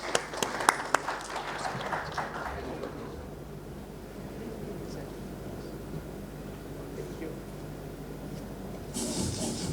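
Audience applause at a felicitation during a packaging technology panel event: a burst of clapping for the first few seconds, then fading into quieter room murmur, with brief higher hiss near the end.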